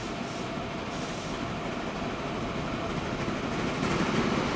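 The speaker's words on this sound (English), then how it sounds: "New vehicle, a steam train," A steam train from the Transport Fever video game rumbles along in a steady, unbroken roll with a faint clatter, heard alone without talk.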